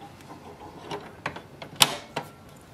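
A refilled ink cartridge is pushed into an HP printer, producing a handful of scattered plastic clicks and snaps, with one sharper snap near the end, close and fairly quiet.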